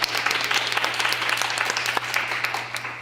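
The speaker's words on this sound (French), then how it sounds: "Une belle main d'applaudissement pour Jacinthe Lepage." An audience applauds at a talk on fighting discrimination, with steady, dense clapping from a crowd that carries on at an even level for the whole stretch, a low hum beneath it.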